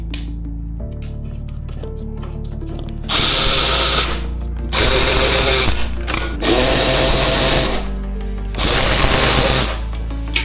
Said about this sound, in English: I'll retighten these 10mm bolts back down.